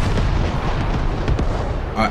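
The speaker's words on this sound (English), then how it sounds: "cannons, 30 millimeter, high power cannon." Rapid heavy 30 mm cannon fire from a MiG-29 in a mobile jet game booms in a dense, rumbling stream, loud and continuous, ending with a brief electronic tone.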